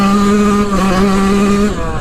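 Yamaha YZ125 two-stroke dirt bike engine held at high revs for a launch start, a loud close buzzing drone that wavers briefly, then drops off near the end.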